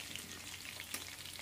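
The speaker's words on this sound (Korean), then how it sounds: "이렇게 초벌 튀긴 다음에 한 번 더 튀기면 고소하고 바삭하니 아주 맛있죠." Dried shiitake mushroom pieces deep-frying in hot oil for a sweet and sour dish give a steady, close, faint crackling sizzle with a few sharper pops.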